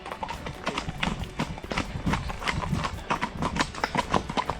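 Horse hooves clip-clop steadily on a mountain trail during a ride in Abruzzo toward Rifugio Franchetti, a brisk repeating rhythm close by, with faint background voices now and then.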